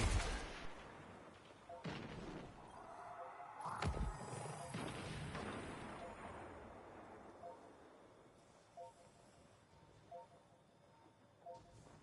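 Gunfire in the Destiny 2 shooter game, a few heavy booming shots and blasts near the start, then fainter scattered reports trailing off into quieter background.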